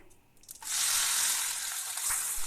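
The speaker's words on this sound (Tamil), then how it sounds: "கொஞ்சமாக எண்ணெய் ஆட் பண்ணி கடுகு, சீரகம், உளுத்தம்பருப்பு, கடலைப்பருப்பு ஆட் பண்ண போகிறேன்" Mustard seeds, cumin and lentils hit hot oil for tempering, bursting into a loud steady sizzle after a brief quiet start and holding bright and close.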